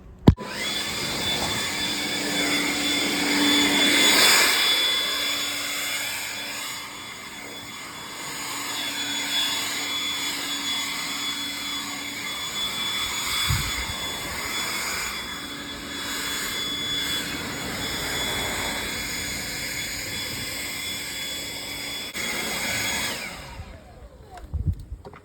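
A Kobalt battery-powered leaf blower runs with a continuous whirring, jet-like whine that rises and dips slightly in strength over a long stretch before cutting off, with no talk over it.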